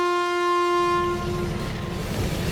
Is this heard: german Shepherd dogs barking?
no